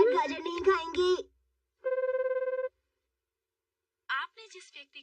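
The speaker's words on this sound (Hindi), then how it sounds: "हैरी मेरा फोन क्यों नहीं उठा रहे?" In a Shin Chan cartoon, a phone call's ringback tone pulses as one steady buzzing burst of rapid repeated pulses between stretches of animated dialogue, left unanswered.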